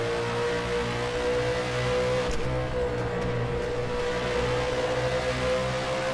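A V8 Supercar engine in the rFactor 2 racing game drones steadily under power, a loud, continuous close-up tone with a brief gear-shift dip midway and no talking.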